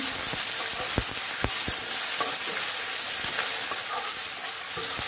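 Onions fry in a pan, lightly browning with a steady, loud crackling sizzle, with scattered clicks and stirring knocks throughout and no talking.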